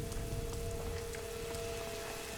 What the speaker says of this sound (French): Il pleut? Il pleut. Super, il pleut.